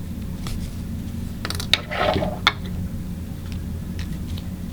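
Yarn being snipped away at a knot during continental-stitch needlework, heard as two small, sharp scissor clicks close by over a quiet background hum, with a brief soft rustle between them.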